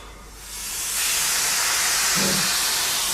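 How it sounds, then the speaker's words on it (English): A steam train on the Isle of Wight lets out a loud, broad hiss of steam that swells in after a quieter start and holds steadily, with a brief low tone near the end. "I fell in love with the place originally because of the steam trains"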